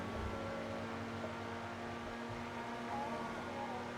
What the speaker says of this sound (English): I do like the engine sound and tone, but it's got a nice engine note.